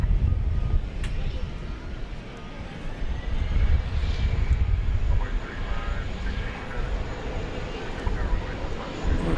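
An airplane comes in to land at DFW Airport at night, a loud low engine rumble and roar heard from outside with wind noise on the microphone, rising and holding steady as it approaches, with faint voices in the background.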